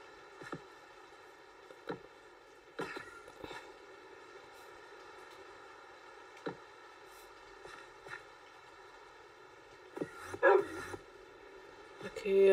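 A dog in Minecraft gives several short, sharp barks spread across the span, each one separate and fairly faint, over a steady tonal game background.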